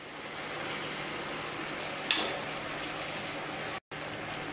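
Beef steak searing in a pan over medium heat gives a steady, moderately quiet sizzling hiss, with one faint click partway through and a very brief dropout near the end. No one speaks.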